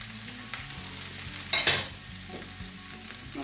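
Pepper steak ingredients fry and get stirred in a pan, a steady close sizzle with scraping stirs and one sharp louder clatter midway, no talking.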